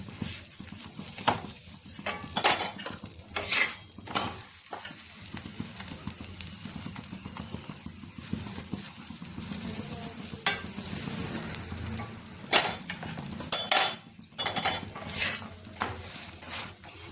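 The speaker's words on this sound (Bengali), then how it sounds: "এখানে আমি সাদা তেল দিয়ে সেঁকে নিচ্ছি" Aloo paratha frying in white oil on a flat pan, a soft continuous sizzle with intermittent scraping and clinking from the turner, close and fairly quiet, no voices.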